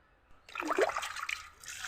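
A short splash of water poured over a fish being scrubbed on a stone, brief and close, with a wet trickling tail.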